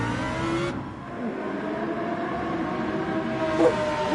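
A Lamborghini race car at Nürburgring 24-hour pre-qualifying drones past with a steady, sustained engine note, heard at moderate distance without talk.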